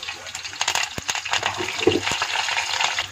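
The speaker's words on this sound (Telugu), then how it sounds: "ఇప్పుడు పోపు దినుసులన్నీ యాడ్ చేసుకోవాలండి. ఆవాలు, జీలకర్ర, కరివేపాకు." Mustard seeds, cumin and curry leaves sputter in hot oil while tempering for a carrot egg fry, with sharp crackles and pops over a busy sizzle, close and fairly loud.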